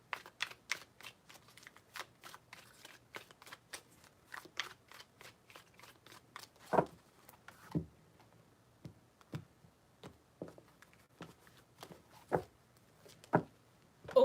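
Tarot cards riffle and snap in a run of rapid shuffles. Crisp, close clicks come fast and then turn into sparser, louder slaps, with no voice over them.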